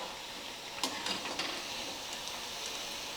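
Bread potato bites frying in hot oil in a home kitchen: a soft, steady sizzle with a few brief clinks and stirring scrapes near the start, low in volume, with no voices.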